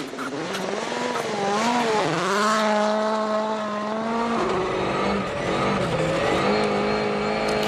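Sébastien Ogier's Volkswagen Polo R WRC rally car on a Monte-Carlo Rally stage, its engine loud and close, revving up and down through gear changes and pulling hard, with a rising and falling whine throughout.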